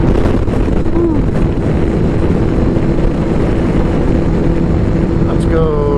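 A 2016 Kawasaki Ninja 1000 motorcycle on the move, its engine drone steady and close beneath heavy wind buffeting, with a brief higher whine near the end.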